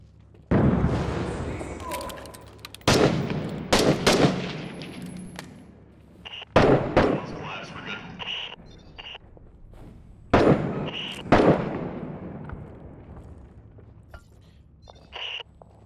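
Gunfire and a grenade blast inside a tunnel room in the video game Six Days in Fallujah, with several loud, separated explosive bursts and cracks that fall back into quiet.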